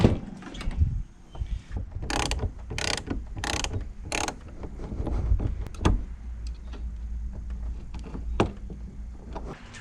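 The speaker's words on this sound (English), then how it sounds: "The first thing it says to do is we need to unhook the battery." Wrench loosening a car battery terminal, heard as close ratcheting clicks in a quick run of four or five, followed by scattered metallic taps and handling noises.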